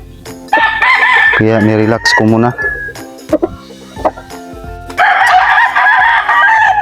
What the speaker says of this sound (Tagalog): Sobrang tangkad na manok yan mga idol.